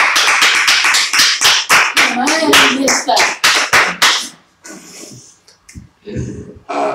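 A church congregation claps in a steady burst of applause for several seconds during a Sunday service, then it thins out into a few scattered claps and murmurs.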